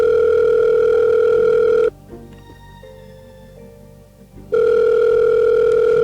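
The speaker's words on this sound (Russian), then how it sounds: "громко, ебаный телефон" An old-style telephone rings loudly in the Murder on the Orient Express video game, a long sustained electronic ring that breaks off briefly for a quieter tonal pause before resuming just as loud.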